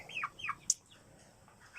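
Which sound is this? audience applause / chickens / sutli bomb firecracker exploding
chickens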